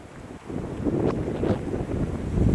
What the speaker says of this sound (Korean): 어이, 바람.